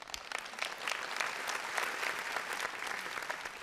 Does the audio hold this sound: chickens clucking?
no